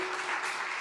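A conference audience at an investment talk applauds briefly after a presentation, a short burst of dense clapping heard from within the room.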